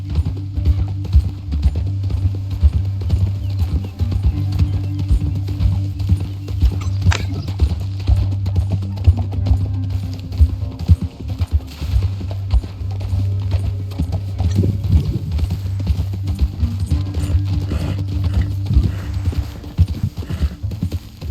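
Steady clip-clop of horse hooves at a trot in Red Dead Redemption 2, loud and continuous, with occasional faint creaks and a brief whinny.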